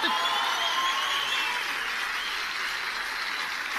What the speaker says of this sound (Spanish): Un aplauso para este muchacho.